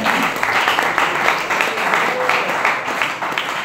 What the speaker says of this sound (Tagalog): Palakpak kanato ang atong Dios.